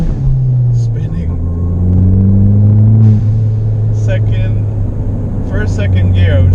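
Ford Fiesta ST hot hatch accelerating hard in second gear with wheelspin, a loud droning engine note climbing in pitch up close, with a voice speaking over it.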